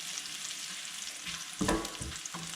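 Garlic and green chili with spices sauté in a pan for a chicken curry, a soft steady sizzle with a brief louder stir or scrape near the end.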